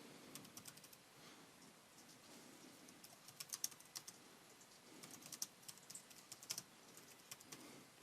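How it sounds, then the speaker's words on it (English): Quick, light tapping on a computer keyboard in bursts of keystrokes, close and fairly quiet in an otherwise calm room. "So to start a post in here I'm just going to start typing."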